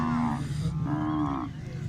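Cattle at a livestock market, with Sahiwal and Cholistani calves among them, give two loud, close moos in quick succession, each a long drawn-out low call, against faint background noise.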